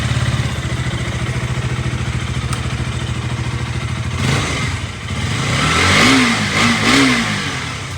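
A second-hand motorcycle at a used bike sale idles with a steady rapid thumping, then the rider blips the throttle and the engine revs up in a few rising and falling surges, close and loud.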